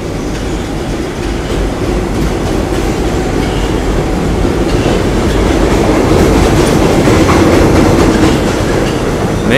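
A subway train rumbles loudly with steady clattering wheels, the roar building slightly as it accelerates, heard from inside the car.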